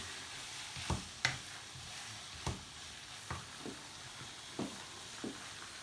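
Chopped tomatoes stirred into a sizzling chili pan: a quiet continuous hiss of frying broken by half a dozen spaced scraping clacks of a spoon against the pan.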